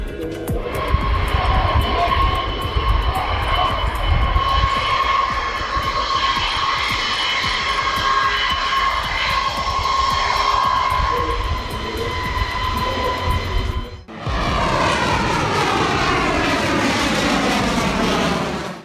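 B-52 bomber taxiing on a runway, its jet engines a loud, steady roar, broken by a brief drop and then a shifting, sweeping whine.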